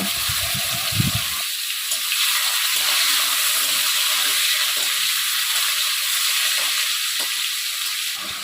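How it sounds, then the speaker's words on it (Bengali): Chopped tomatoes fry in hot oil with a steady, loud sizzle throughout, preceded by a brief clatter as they go into the pan. "এবার আমি এর মধ্যে দিয়ে দেব আগে থেকে কেটে টুকরো করে রাখা টমেটোগুলো গুঁড়ো টমেটোগুলোকে খুব ভালো করে কষিয়ে নেব"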